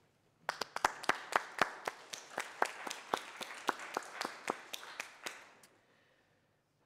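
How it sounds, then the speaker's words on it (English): A church congregation gives a short, thin round of applause at an Easter Vigil, with a sparse handful of separate claps heard clearly for about five seconds before stopping. "I think you all deserve a round of applause."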